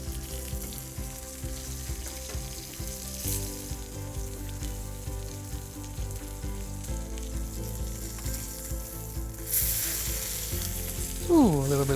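Chicken skin crackling and sizzling steadily in a hot pan for a chicken marsala, a dense, loud continuous fry with a brief flare of flame and a metal scrape near the end.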